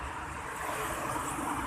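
Sea surf washes onto a beach in a steady, soft roar, mixed with wind rush against the microphone; no voices are heard.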